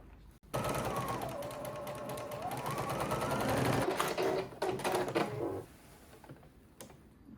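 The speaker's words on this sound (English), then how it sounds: "Now I'm sewing the second side seam." A sewing machine stitches the side seam of a skirt with magenta thread in a fast continuous whir with a shifting motor pitch, close up, then slows and stops near the end, with no speech.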